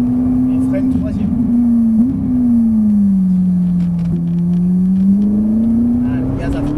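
A Ferrari 458 Italia engine drones loud and close with a steady, continuous tone, its pitch sagging slightly mid-way and then climbing again as the car accelerates, with no break in the sound.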